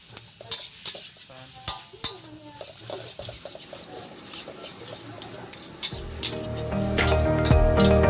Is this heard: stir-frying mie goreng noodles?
yes